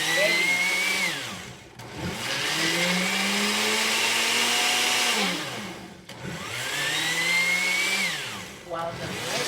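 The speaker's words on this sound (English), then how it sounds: "Here is our pepino blending." A blender whirs loudly nearby as it blends a cucumber smoothie, in two long runs with a clear rise in pitch at the start of each and a short dip between them.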